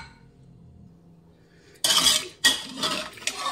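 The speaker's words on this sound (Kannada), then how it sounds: "ಲಿಡ್ ಓಪನ್ ಮಾಡೋಣ" A pressure cooker lid being opened after cooking black-eyed pea curry, heard as a quiet pause and then a loud metallic clatter and clink of the lid and pot, with a second sharp clank shortly after.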